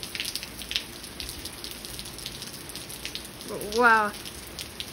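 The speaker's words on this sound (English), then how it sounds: "Still raining. It's hailing too." Rain mixed with hail falls steadily outdoors as a constant patter and hiss, with a brief voice rising in the middle.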